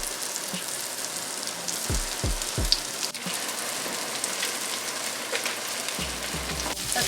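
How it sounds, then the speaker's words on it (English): Steady, crackling sizzle of shrimp frying in a hot pan, constant and close, with a few soft clinks and pops along the way. "Get that sizzle."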